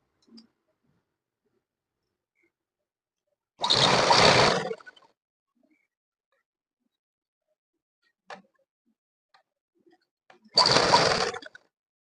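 A sewing machine stitches a school uniform shirt collar in two brief whirring runs, each about a second long, separated by near silence and a few faint clicks.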